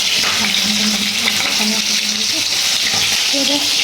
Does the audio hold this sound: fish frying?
yes